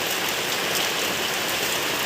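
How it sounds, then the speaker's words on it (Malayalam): Heavy rain pours down in a dense, constant hiss without pause, with no voices or other sounds on top. "നല്ല മഴയാണ്"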